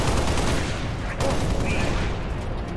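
Rocket launcher fire in the Halo Reach campaign, with a dense roar of blasts and gunfire filling the whole moment and a sharp burst near the middle.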